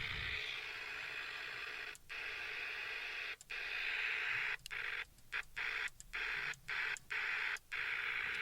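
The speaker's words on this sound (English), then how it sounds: "A lot of static." Steady radio static hisses while the receiver scans across frequencies, broken by a series of brief clicks and dropouts as it steps through channels, fairly loud and continuous with no voices.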